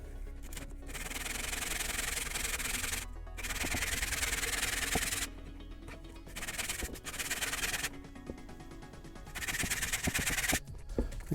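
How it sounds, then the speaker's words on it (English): Hand sanding along the bottom edges of a homemade Boba Fett jet pack, rhythmic scratchy rubbing strokes in bursts separated by short pauses, close and fairly loud. "I just want to do this until I'm starting to sand away the bottom edges here."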